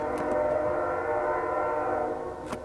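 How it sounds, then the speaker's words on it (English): A train passes close by outdoors, a loud, steady rumble with a sustained tonal drone that holds for the whole stretch, sharp brief bursts breaking in near the start and the end. "Train."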